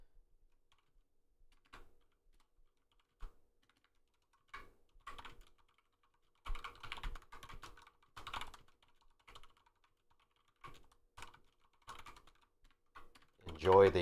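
Someone types on a computer keyboard in quiet, uneven bursts of soft clicks, faint and close, with short pauses between runs of keystrokes.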